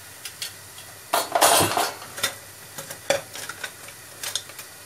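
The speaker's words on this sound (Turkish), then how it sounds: "Makarnalarımı da şöyle yavaşça ilave ediyorum." Dry pasta is added slowly to a pot of boiling water, giving scattered clinks and rustling pours with bubbling and stirring. The sounds come as short, close, moderately loud bursts.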